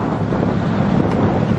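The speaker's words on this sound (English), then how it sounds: "Super, super windy." Loud, steady wind at Ghost Lake buffeting the microphone, a constant roaring rumble with no voices.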